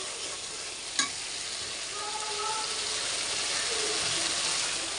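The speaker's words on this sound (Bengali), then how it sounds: "এখন মশলাটা ভালোভাবে কষিয়ে নিব আর একটু" Spices and onions stirred and frying in a pan for a meat curry, a steady close sizzle with scraping strokes and one sharp utensil knock early on.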